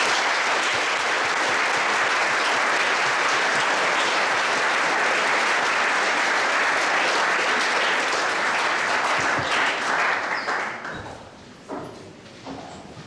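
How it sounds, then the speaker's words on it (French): A school audience claps steadily through an end-of-year ceremony honoring a parent association member. The applause is dense and sustained, then thins into scattered claps that fade out near the end. "On peut l'applaudir."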